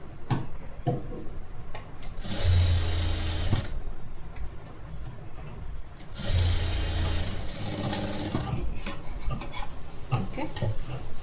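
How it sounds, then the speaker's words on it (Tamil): Sewing machine stitching a folded edge on a blouse, running in two loud bursts of steady whirring, each a second or more long, with quieter rustling and handling of fabric between them. "இந்த சைட்லையும் ஃபோல்ட் பண்ணி ஸ்டிச் பண்ணணும்."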